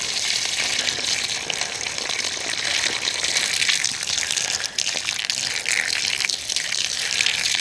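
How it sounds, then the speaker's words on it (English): Water siphoned from a tank gushes steadily through a hose onto a tree in an orchard, a close, continuous hiss with no talk. "it's actually siphoning the water through this hose"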